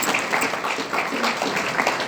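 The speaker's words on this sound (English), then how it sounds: "give yourselves a good round of applause" Applause from a talk audience: many hands clapping in a steady, dense wash that holds at an even level throughout, with no voices over it.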